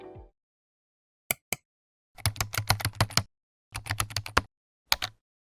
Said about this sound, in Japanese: このクリック音やキーボード音などもよく使う効果音です。